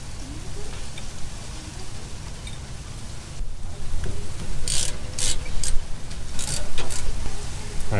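Ratcheting metallic clicks from a tool retracting the rear brake caliper piston on a Ram 1500, a few sharp bursts close by over steady workshop background noise, with no talking.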